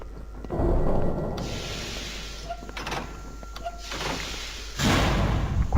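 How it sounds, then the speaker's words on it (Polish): A door closing in the horror video game SCP - Containment Breach, heavy sliding thuds and clanks amid a tense ambient drone, with a loud rumble at the end. "Zamykamy drzwi."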